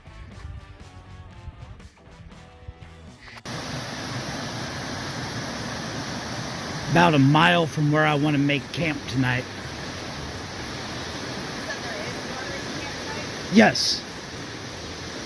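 A creek swollen high with rain rushes in a constant broadband roar along the Appalachian Trail in Virginia, close and steady throughout, while someone talks over it briefly.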